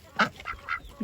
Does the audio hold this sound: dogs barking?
no